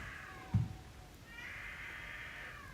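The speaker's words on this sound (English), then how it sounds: "There's a weird noise outside. I think it's a cat or some sort of animal." A cat meows outdoors, one faint drawn-out call early and a longer wavering yowl later, distant and quiet over a low background hum.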